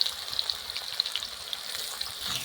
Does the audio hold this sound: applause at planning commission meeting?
no